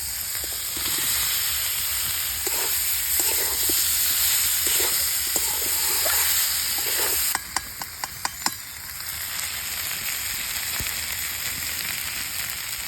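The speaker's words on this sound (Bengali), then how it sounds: "পেঁয়াজগুলো ভাজা ভাজা হয়ে গেছে এবার আলুগুলো দিয়ে দিই" Potatoes added to a pan of browned fried onions for an egg curry sizzle in a steady, close hiss, with a few soft stirring scrapes and a quick run of sharp taps from a spoon against the pan near the end.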